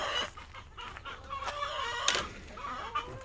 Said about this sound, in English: Our rooster decided to get out.